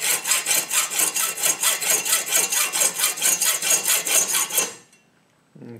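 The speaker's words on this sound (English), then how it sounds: "I'm trimming this with a hacksaw to keep the amount of heat on these pins down" A hacksaw with a freshly changed blade trims the pins on a cleaver handle made from a circular saw blade, with steady, rhythmic back-and-forth strokes, close and loud for several seconds before stopping abruptly.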